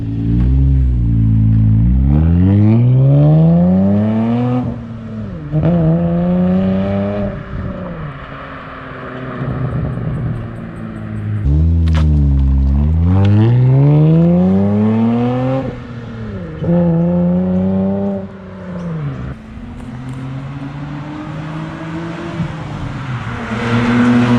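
Hyundai Tiburon with a louder aftermarket exhaust revving hard, repeated rising and falling engine sweeps that are loud and close, with no talking over them.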